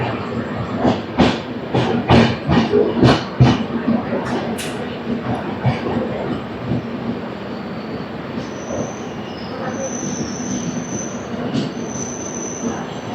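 The Humsafar train 20890 from Howrah to Tirupati moves through Eluru station: a burst of heavy wheel clatter over rail joints, then a steady rumble with thin, high wheel squeals.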